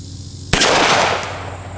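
A single sharp, loud shot from a Smith and Wesson 642 snub-nosed revolver cracks out after a quiet moment, followed by a roughly half-second decaying echo.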